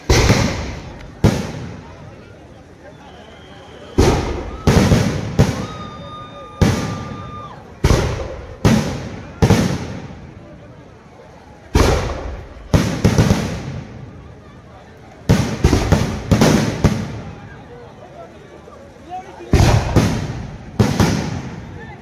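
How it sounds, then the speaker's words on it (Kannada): Firecrackers going off at Bannimantap at the close of the Mysuru Dasara celebrations, a long irregular series of loud sharp bangs, some single and some in quick clusters, over a crowd murmur. "ಪಟಾಕಿಗಳನ್ನು ಹೊಡೆಯಲಾಗುತ್ತೆ."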